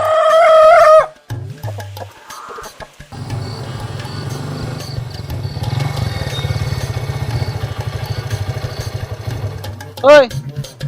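Chickens at a village chicken shop squawk and cluck briefly at the start and again near the end, with a steady motor-like drone and people talking in between.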